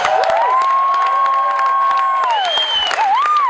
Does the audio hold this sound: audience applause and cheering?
yes